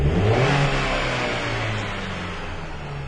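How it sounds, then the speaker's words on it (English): A 2010 Sebring engine, suffering intermittent low power and hesitation, revs loudly up close as the gas is pressed, then its rising note falters and eases back toward idle. "Hitting the gas now. There's a little bit of a stumble, and there is a delay."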